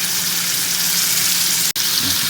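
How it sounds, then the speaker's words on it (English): Chicken breast sizzling in melted butter in a pan for a Cajun dish, a steady loud hiss of frying that runs without pause except for one brief sharp click near the end. "You want to hear it sizzle"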